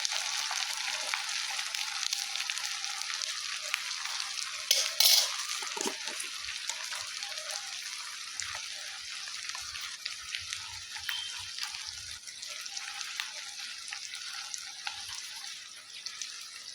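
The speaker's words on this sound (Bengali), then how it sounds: "এই গোশগুলোকে আমি এই কালো ভুনাকে আমি সম্পূর্ণ মিডিয়াম আঁচে রেখে রান্না করছি" Beef kala bhuna cooks in a pan over medium heat, giving off a faint, steady, hissing sizzle with a few soft clinks and bumps.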